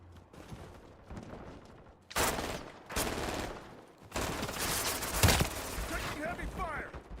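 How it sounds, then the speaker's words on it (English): Heavy automatic gunfire in a Modern Warfare 4 beta match, with loud bursts of rapid shots in separate volleys, close and dense, and a voice speaking between and under them. "Taking heavy fire!"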